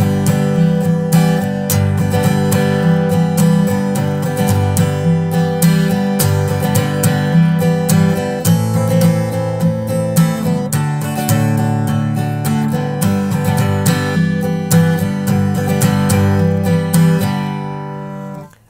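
Acoustic guitar strums the intro pattern of a song, with steady rhythmic down-and-up strokes ringing full and close for the whole passage before the last chord fades.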